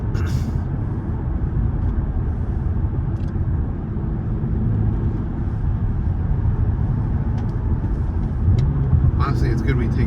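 BMW M3 engine droning steadily while driving, a loud low rumble heard from inside the cabin, constant throughout with faint road noise and occasional light rattles, no clear revving swells.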